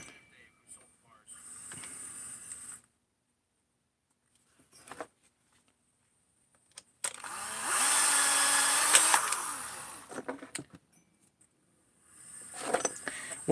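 A ported 52mm Husqvarna 372 chainsaw engine revs hard for a few seconds while cutting into wood, a loud, steady buzzing whine, set between short bursts and long stretches of near silence.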